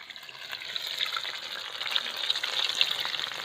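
Homemade KFC-style chicken frying in hot oil gives a steady, faint, crackling hiss that builds slightly throughout, with no voices.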